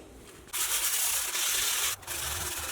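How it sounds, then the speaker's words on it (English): A worn flap disc on an angle grinder sanding down a high spot on welded sheet metal during Jeep Wrangler YJ rust repair, two loud close bursts of abrasive grinding separated by a brief pause. "I'm going to work down this high spot right here with the worn out flap disc."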